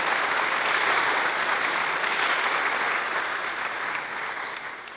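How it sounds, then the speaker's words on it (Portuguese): Applause for the vocal group Kairos at a church worship service, a broad steady wash of clapping from the congregation that fills the room and eases off slightly toward the end. "Uma salva de palmas ao grupo vocal Kairos."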